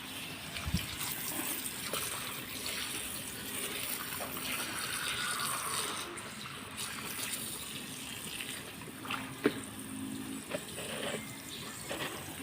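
Water pours and splashes into a drinker for three-month-old cockerels as it is rinsed and refilled, a steady gushing, trickling wash close by with occasional clinks, and no talk over it.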